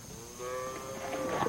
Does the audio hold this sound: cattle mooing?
yes